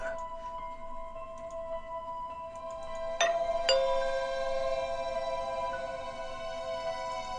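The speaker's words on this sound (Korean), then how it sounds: "그리고 그때 초인종이 울렸다." A doorbell chimes late at night indoors, two bright ringing tones in quick succession that hang and fade over a soft tonal background, fairly faint and alone without talk.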